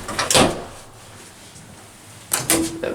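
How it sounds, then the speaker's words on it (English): An Atlas hydraulic elevator's modern swing door in an apartment building opens with a short clunk and rattle, then a pause of quiet hum before a second louder clatter and faint tonal whine near the end. "Modern swing door."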